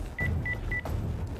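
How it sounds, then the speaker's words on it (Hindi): A mobile phone being used to dial the police gives three short, evenly spaced beeps over a low background hum, with no talk. "उसने अपना मोबाइल उठाया और पुलिस का नंबर डायल किया"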